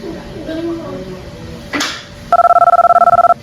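Telephone ringing: a short scuffle and a brief swish give way to a loud, fast-trilling electronic ring burst lasting about a second, close and clear, with faint background talk before it.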